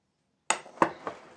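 A drinking glass clinks down onto a hard surface, a sharp knock followed by two lighter taps, close and alone in silence.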